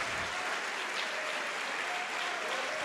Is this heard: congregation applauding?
yes